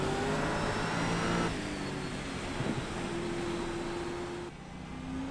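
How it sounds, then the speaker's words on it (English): Race car engines drone steadily on the final lap of a wet Snetterton supercar race in a sim racing game, a loud continuous whine with pitch shifts as the car changes gear. "Here we are, rounding the last corner on lap 27 to do lap 28."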